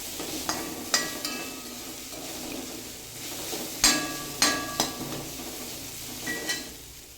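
Ground coconut paste with salt being stirred in a pan, with a spatula scraping and tapping in a string of light, irregular metallic clinks over a faint sizzle.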